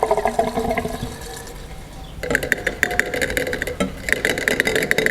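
Liqui Moly Super Diesel additive is poured from its bottle into the fuel tank of a high-mileage diesel vehicle, making close gurgling, splashing glugs over a steady low rumble.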